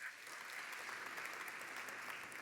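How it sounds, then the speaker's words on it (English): Audience applause at a state keynote during an economy summit in Texas, a steady dense wash of many hands clapping that holds evenly throughout without voices. "Yes, you can applaud that."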